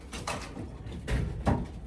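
Racing pigeons coo close by in a loft, a few soft, low throaty coos in short bursts with quiet gaps between them.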